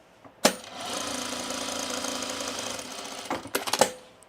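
A sewing machine stitches down a pocket on a sunblock top in one steady run of about three seconds, opened and closed by sharp clicks and handling knocks.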